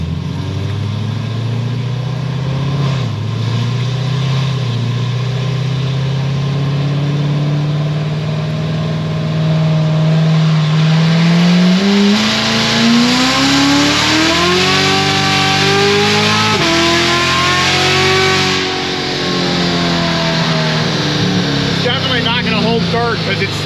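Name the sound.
Corvette C7 Z06 engine revving through gears on dyno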